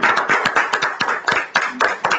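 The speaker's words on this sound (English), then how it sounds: "So the moment the name comes, they also clap for you guys" Several people clap together at a lucky draw as a winner's name is announced, a dense run of hand claps that is close and steady throughout, with no voices.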